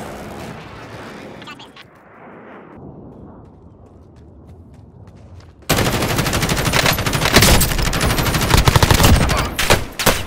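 A called-in airstrike and heavy gunfire in the Call of Duty Warzone video game, starting with quieter rumbling then erupting into loud, dense, sustained bursts of shots and blasts; a voice is heard briefly.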